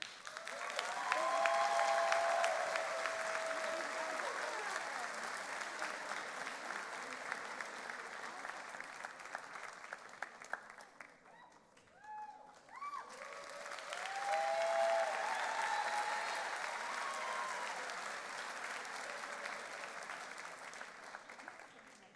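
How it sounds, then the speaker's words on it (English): A large crowd at a graduation convocation applauds with steady, sustained clapping, dipping briefly in the middle before swelling again and continuing at length. "One more round of applause."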